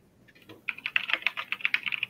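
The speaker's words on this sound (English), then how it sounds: "Got a lot of typing to do there, Ben." Rapid keyboard typing, a quick uneven run of light key clicks close by, building up after a quiet start.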